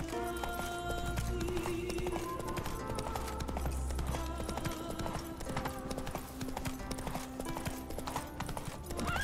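Horse hooves clip-clop steadily at a walk in the video game The Witcher: Wild Hunt, with an occasional whinny among many horses, set against quiet ambient game sound.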